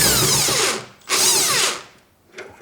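A power tool loosens a 10mm nut and bolt on a car's front grille, with two strong whirring bursts and a brief third spin, close and loud with no talking.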